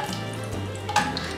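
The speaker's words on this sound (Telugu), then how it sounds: "ఆయిల్ 3 టేబుల్ స్పూన్స్ వేసుకోండి కొంచెం ఎక్కువ ఆయిల్ ఈ మసాలా ఉంది కదా ఈ మసాలా మనం ఫ్రై చేసేసుకుందాం" Masala spices frying in about three tablespoons of oil for chicken biryani, a soft steady sizzle under a low humming tone, brief and close.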